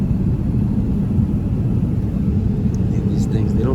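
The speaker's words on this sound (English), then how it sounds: "There's an airplane going by." An airplane passing overhead: a steady, loud, low rumble that fills the whole stretch with no break.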